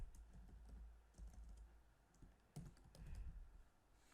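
Typing on a computer keyboard while entering dates into a Word document, quiet irregular key clicks in short bursts with brief pauses, close and faint, no voices.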